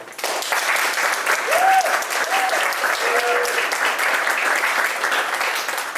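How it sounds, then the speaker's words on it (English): A Magic Lantern Show audience at The Wilson in Cheltenham breaks into spontaneous, enthusiastic applause, a steady, dense roar of many hands clapping throughout, with a few whoops rising briefly above it. "Spontaneous, enthusiastic applause"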